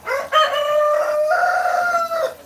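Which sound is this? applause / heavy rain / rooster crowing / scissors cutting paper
rooster crowing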